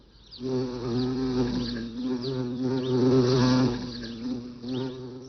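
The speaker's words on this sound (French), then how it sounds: "Mais ce n'était qu'un bourdon." A bumblebee buzzes close by with a steady droning hum that wavers in pitch and loudness as it moves, continuous for several seconds with no voices.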